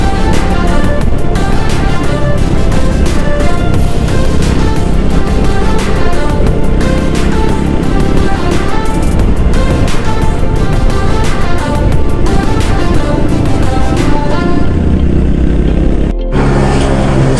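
A group of motorcycles, a Suzuki Raider 150 Fi followed by NMAX and Aerox scooters, rides past on a breakfast ride, loud continuous engine drone and revving with wind buffeting, dropping out abruptly near the end.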